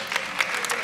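An audience at a relationship Q&A session claps for a couple on stage, a brief burst of scattered clapping.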